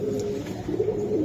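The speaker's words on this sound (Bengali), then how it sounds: "মাকড়া মানে কবুতর" A Giribaz pigeon coos close by, a short, low, throaty burble rising and falling with no voices over it.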